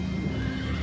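A horse neighs over steady hoofbeats in a documentary sound effect of cavalry crossing a river, a loud sustained whinny with continuous clip-clop underneath and no voices.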